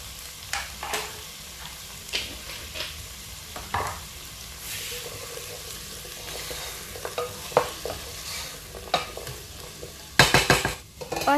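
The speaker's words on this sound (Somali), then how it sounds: "waxaa sugeynaa inta iskaga shiilmi doonaan" Vegetables for a vegetable biryani sizzle and fry in a pan while a utensil stirs them, with repeated scraping clacks and a louder clattering burst of stirring near the end.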